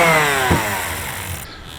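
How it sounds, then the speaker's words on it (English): A power sander works on wooden boat deck pieces, giving a loud, close, steady high whine that sags slightly in pitch as it runs, with a bump partway through and a sudden thinning near the end. "After I'm done all this sanding"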